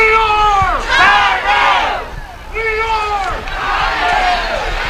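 A high school football crowd cheers loudly for the Golden Eagles in repeated swelling waves of shouting voices at a Tyrone varsity game against Bellwood-Antis.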